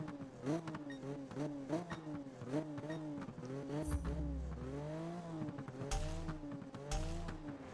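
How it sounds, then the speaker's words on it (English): A Toyota Supra drag build in the racing game Need For Speed performs a burnout in first gear, its engine revving in rising and falling bursts while tires squeal steadily throughout, loud and close with no talking. "So we'll get in first gear and burn our car."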